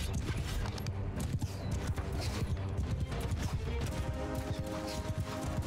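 Rapid hoofbeats from horses being ridden in Mount & Blade II: Bannerlord, a dense clattering gallop mixed into loud, continuous battle noise.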